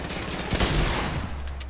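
Rapid bursts of gunfire from a Fortnite match, a dense volley of shots crackling continuously and fairly loud throughout, with no talk over it.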